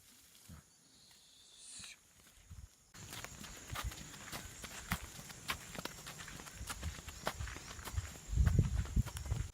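A horse walks on a farm in Brazil, irregular hoof thuds and clip-clops close by over outdoor ambience, growing louder toward the end.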